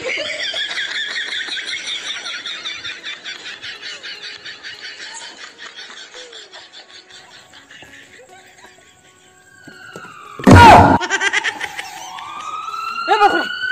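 An ambulance siren wails at a distance, its rising and falling tone trailing off before a sharp loud burst, with voices and laughter in a comedy scene around it.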